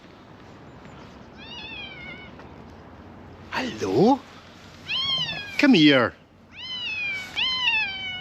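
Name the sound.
cat meowing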